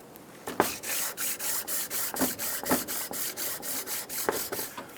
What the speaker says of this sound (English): We're going to take our spacer and we're going to clean both sides using our sanding block.